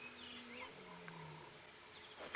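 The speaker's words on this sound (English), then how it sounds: "lions are roaring" Lions roaring somewhere off in the bush during a sunrise safari drive, low drawn-out calls that are faint and distant, with birdsong overhead and no speech.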